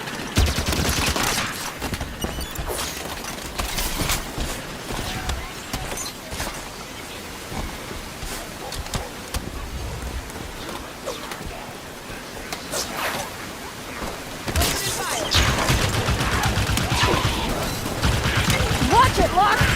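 Turret gunfire in a Halo 5 firefight: dense, sustained bursts of automatic fire rattle almost without pause, with heavier volleys toward the end, while combat voices call out over the noise.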